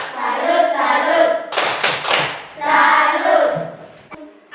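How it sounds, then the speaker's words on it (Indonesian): Children in a classroom perform a rhythmic 'tepuk salut' cheer for a group, chanting in unison with a short burst of quick, crisp group claps in the middle before the chant resumes. "kita berikan tepuk salut untuk kelompok 1"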